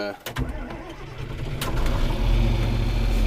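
A John Deere 4230 tractor engine cranks and catches near the start, then settles into a steady, loud low rumble of idling machinery.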